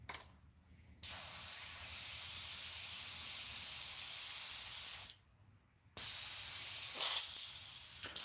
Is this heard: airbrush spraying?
yes